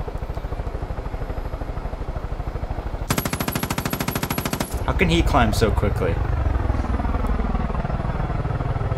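Gunfire and a helicopter in Far Cry 5: a long burst of rapid machine-gun fire, then a helicopter's heavy rotor thumping and crash-like impacts, with a player's voice talking over the game sound.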